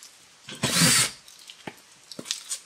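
A power drill with a small bit bores into steel during a van cargo door panel install, a short loud whining burst followed by a few brief faint taps and clicks.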